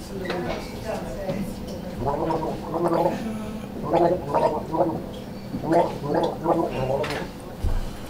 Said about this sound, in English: I've got to gargle a song and you've got to try and guess what it is